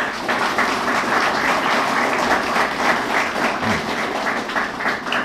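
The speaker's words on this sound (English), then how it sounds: "Could we give him a round of applause?" Audience applause at a closing ceremony for a section leaders training course, a dense, steady wash of clapping from a sizeable crowd that holds evenly through the whole stretch with no voices over it.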